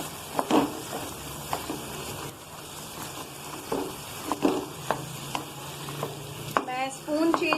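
Spoon scraping and stirring okra through spices in a hot pan, with irregular knocks against the metal over a soft sizzle, close and fairly quiet, ending in a louder burst of scraping.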